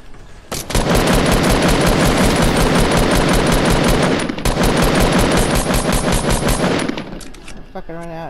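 A shooter video game fires rapid automatic bursts, loud and close, in two long sustained strings split by a short pause, then a few clipped mechanical clicks as the firing stops.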